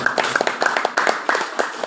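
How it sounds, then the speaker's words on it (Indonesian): A few people clap for the organising committee at a halal bil halal gathering, sparse and uneven handclaps in a loose rhythm, close and fairly loud over a short burst. "Tepuk tangan dulu buat panitia."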